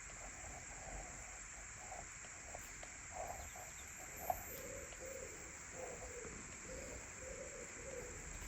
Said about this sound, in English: Can you hear the pigeons in the background?